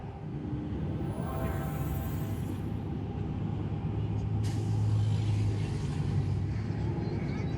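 Dense city traffic jam in Almaty, a steady low rumble of idling cars and trucks with a brief hiss like an air brake partway through, continuous and fairly close.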